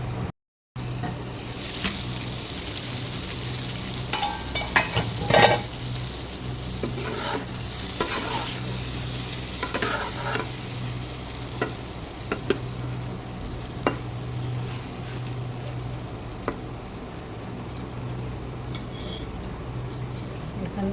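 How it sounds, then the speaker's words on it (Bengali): Brinjal frying in a pan gives a continuous close sizzle, with occasional scrapes and light taps of a utensil stirring through it and a faint steady hum beneath. "বেগুনটা আর একটু ফ্রাই হবে, ঢেকে দিচ্ছি"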